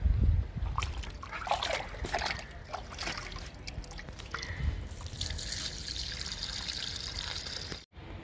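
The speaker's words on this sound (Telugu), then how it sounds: "నిమ్మ మొక్కకి లిక్విడ్ ఇస్తున్నాను" Liquid fertilizer trickles and splashes onto a potted lemon plant and its soil in a steady, close pour lasting several seconds, then stops abruptly.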